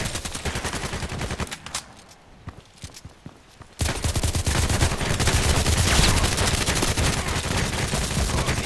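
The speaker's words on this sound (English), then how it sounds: "I just pump in all the shots" Rapid gunfire in the shooter game Contract Wars, a dense run of repeated shots that thins briefly and then returns loud and sustained, close and continuous, with no talking over it.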